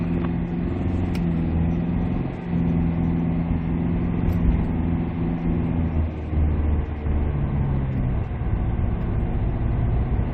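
A 2006 Kyron diesel with an aftermarket unpowered turbo fitted pulls away on the road, its engine a steady, loud low drone with a slight rise in pitch as it accelerates, no voices.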